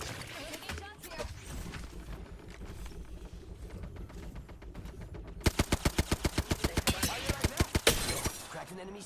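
Rapid automatic gunfire in a ranked video game shootout: hazy bursts and clatter first, then a loud, evenly spaced volley of sharp shots in the second half, with game voices murmuring underneath.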